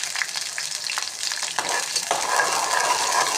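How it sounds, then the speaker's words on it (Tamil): Small shallots and garlic sauté in oil in a pan, giving a continuous close sizzle with stirring scrapes throughout and no talking. "சின்ன வெங்காயம், பூண்டு இது கொஞ்சம் நல்லா வதங்கட்டுங்க."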